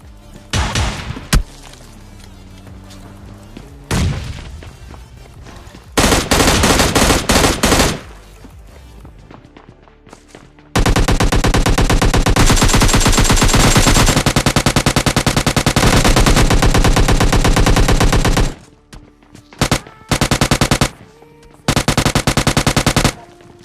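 Gunfire from a weapon in the video game PUBG Mobile Lite, with loud close automatic bursts, single shots and long sustained strings of rapid fire separated by short pauses.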